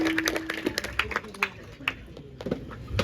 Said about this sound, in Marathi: एकदा जोरदार त्याच्यासाठी टाळ्या होऊन जाऊ देत.